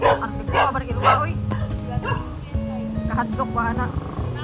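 A dog barks and yips repeatedly near a house, in sharp close bursts mixed with whimpering, while people talk over it.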